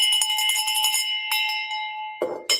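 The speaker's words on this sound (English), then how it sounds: "He actually sent me this bell." A metal hand bell rings with bright, sustained tones. It gives a few quick strikes, then a pause, then two more sharp rings close by.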